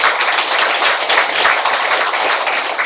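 Dense, loud applause for the Sungin 1-dong district office staff at a New Year's greeting gathering, many hands clapping continuously and close, with no talk over it.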